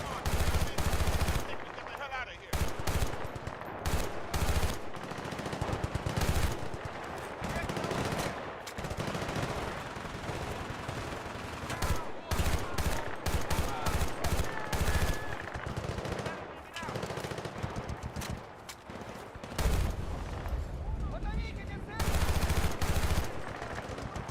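Dense gunfire from the Battlefield Bad Company 2 campaign, with bursts of machine-gun fire and single shots that run almost without pause. Loud, close and chaotic, broken by a few brief lulls.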